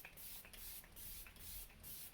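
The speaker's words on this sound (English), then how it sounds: "I'm going to pop on a little bit of setting spray." Several short bursts of L'Oreal Infallible setting spray misting from the bottle, fairly quiet and close, roughly evenly spaced with brief pauses between pumps and no talking.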